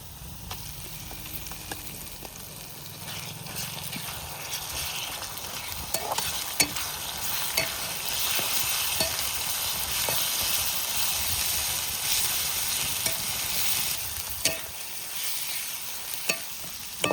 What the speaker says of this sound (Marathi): कांदा लाल झाला आता यात चटणी टाकतो